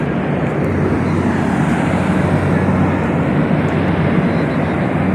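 A helicopter flies near a rooftop helipad on an overcast, rainy day, its steady loud engine and rotor drone filling the whole stretch without a break.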